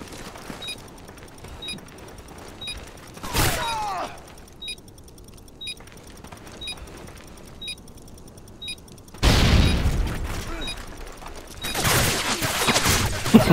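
A C4 charge detonating in a video game, with a sharp blast near the start and a longer, louder roaring burst later, among scattered metallic clicks and game noise.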